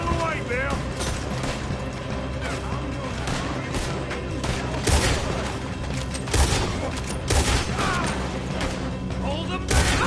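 Gunfire in the Western video game Red Dead Redemption 2 during a chaotic shootout, dense bursts of shots and crashes mixed with shouting voices throughout.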